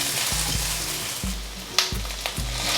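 Vegetables stir-fried in a hot pan, a steady close sizzle broken by repeated scraping and tossing strokes of the spatula, with a few sharper clatters, no voices.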